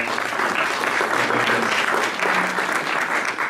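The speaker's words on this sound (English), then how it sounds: "So let's give her a round of applause" Audience applause for a woman at a university lecture, a steady dense wash of many hands clapping that holds evenly throughout, with faint voices mixed beneath.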